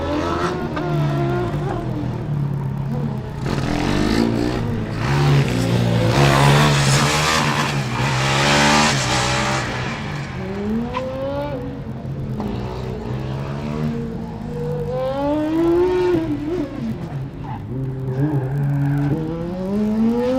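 A Formula Student race car engine roars steadily on an autocross track, pitch rising and falling as it accelerates and brakes through tight turns, loud and close throughout.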